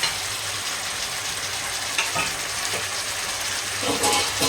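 Oil heats in a pan while cooking a chicken roast, a steady crackling sizzle with occasional stirring scrapes and small pops, loud and close.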